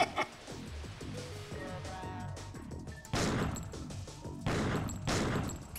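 Gunfire in the Killer7 video game rings out in several loud bursts over a dense musical score, with repeated hits and clattering impacts.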